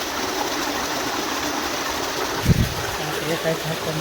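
Water rushes into a dry streambed in a steady, continuous flow close by after a valve is opened, with voices speaking over it and a brief low thump partway through.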